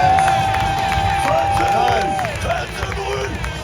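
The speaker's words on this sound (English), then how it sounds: "Let's hear for JD Sanchez" A crowd cheers and whistles at a vert ramp skateboarding final in Montreal, a loud sustained roar of voices rising and falling, with an announcer's voice heard over it.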